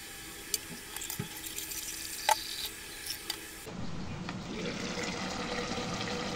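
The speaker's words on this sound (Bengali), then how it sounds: "এখন রাইস কুকারে দিয়ে 1 কাপ পরিমাণ পানি দিয়ে উঠিয়ে দেব" One cup of water poured into a rice cooker over fried rice grains for beef keema biryani, a steady rushing splash that starts partway through after faint kitchen clicks and continues at moderate level.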